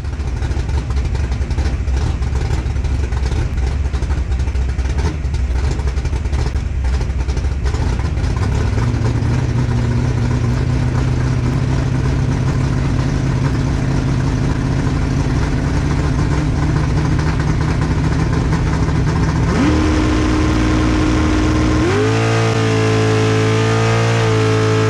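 Drag racing car in a bracket race against a blue Nova running 7.39, engine loud and continuous, rising through gears with harmonics climbing in steps and a sharp shift near the end.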